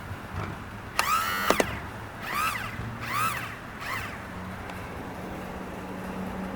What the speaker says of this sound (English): So I'm going to trim the motor